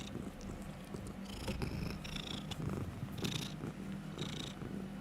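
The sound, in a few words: pet cat purring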